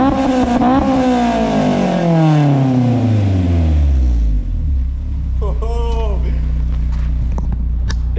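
Modified car engine with a new exhaust revving hard: deep, loud, rising and falling swells of engine tone, settling into a heavy, rumbling idle, with a brief voice partway through.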